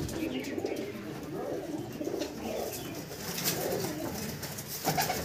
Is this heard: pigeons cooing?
yes